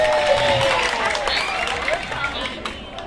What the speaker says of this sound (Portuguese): eu vou querer contar com as palmas de vocês para saber quem foi que dançou melhor